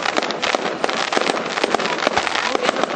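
Dense, loud crackling fireworks burst at Lands End, Cornwall, in rapid continuous pops and bangs heard from nearby, with a few faint voices underneath.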